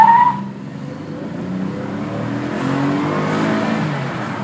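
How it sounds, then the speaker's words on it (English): A Cadillac XTS with a 3.6 liter V6 engine revs hard after a brief tire chirp, rising into a steady, loud, droning acceleration heard close by. "Let's listen to this little XTS."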